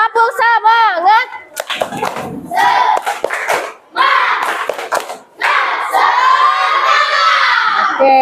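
Schoolchildren in a classroom loudly shouting a rhythmic group chant with bursts of clapping, their voices near and energetic, with brief pauses between the chanted phrases.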